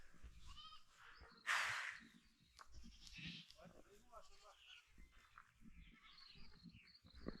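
Goats in a large farm herd bleat here and there during deworming, with several short calls over background movement. People talk quietly throughout.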